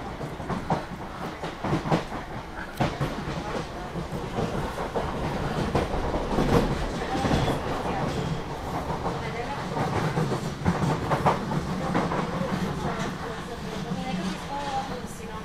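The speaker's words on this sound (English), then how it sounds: "That's a train we saw at East Croydon, wasn't it?" A train passing on the railway at East Croydon station in London, a steady rolling rumble with rhythmic wheel clicks continuing throughout, while people talk nearby.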